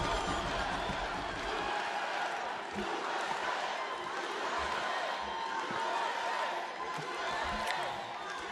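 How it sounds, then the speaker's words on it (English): A rowdy crowd at a Donald Trump campaign rally in Tucson, Arizona roars and cheers steadily, a dense sustained wash of voices and shouts that stays loud and unbroken throughout. "This is a very rambunctious crowd."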